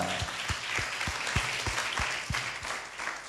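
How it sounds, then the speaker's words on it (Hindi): A church congregation claps loudly during a Hindi worship service, a continuous broadband roar of hands with a steady, rhythmic beat of unison claps running through it. "ताली बजाओ जोरदार।"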